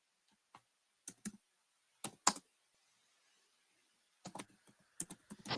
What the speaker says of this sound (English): I'm typing these in as we go, guys.